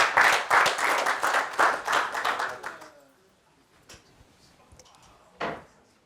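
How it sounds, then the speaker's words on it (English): An audience at an agricultural outlook conference gives a round of applause after a presentation. The clapping is loud for about three seconds, then fades to scattered claps and quiet. "I think we can give Tracy another round of applause."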